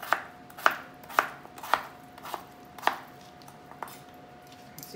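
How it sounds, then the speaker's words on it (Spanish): Potatoes being chopped into pieces with a knife on a board, a steady series of about eight crisp, close chops at an even pace, growing slightly softer toward the end. "Ya partimos las papas en trozos."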